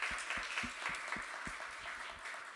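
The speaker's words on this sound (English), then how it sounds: "let's give them a big round of applause" Audience applause after a panel discussion on the American electorate, a continuous wash of many hands clapping, fairly faint and distant, with a few louder claps standing out up front.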